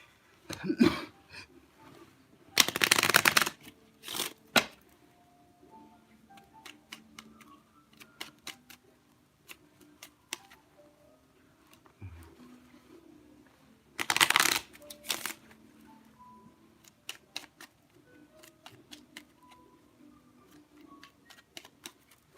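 Lenormand cards are riffled and shuffled in a few brisk bursts, with quiet ticks and taps of handling between them.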